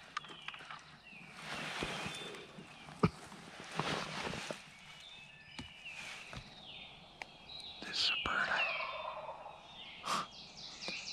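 Wild turkeys gobble in several rattling bursts, fairly close in quiet woods, with a few thin bird calls and rustling between them.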